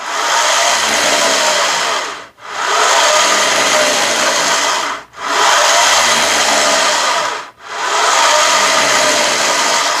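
A Handy Gym flywheel trainer whirs loudly and continuously through tricep kickbacks, a rough rushing hum that dips briefly about every two and a half seconds as each rep reverses.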